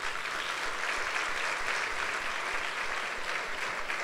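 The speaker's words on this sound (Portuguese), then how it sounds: "Dá um aplauso a Jesus." Sunday worship crowd in a church claps for Jesus, a full, unbroken wave of applause from many people, loud and steady for several seconds without talking.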